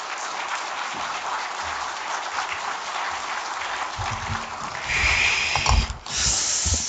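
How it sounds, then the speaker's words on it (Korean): A church congregation applauds to welcome a pastor before a sermon, a steady wash of clapping that swells louder in the last few seconds, with some thumps and shuffling near the end. "감사하는 마음으로 박수로 환영하도록"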